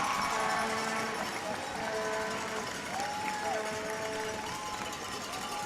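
Hockey crowd at a U18 game, Queens County Cougars versus Bedford Blues, roaring and cheering steadily after a goal, a sustained wash of crowd noise under an announcer's voice.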